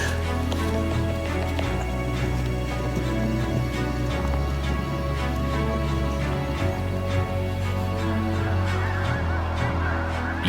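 A large flock of snow geese honks continuously in a dense, overlapping chorus on a tidal flat beside the St. Lawrence River near Château-Richer, Quebec, in spring; the calling is loud and steady throughout, with no talking.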